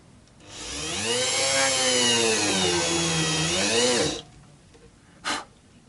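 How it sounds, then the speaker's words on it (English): A steady power drill whirs for about four seconds, drilling small holes in a guitar body, its pitch dipping slightly under load, then stops; a brief faint click follows. "locating these little holes and drilling them"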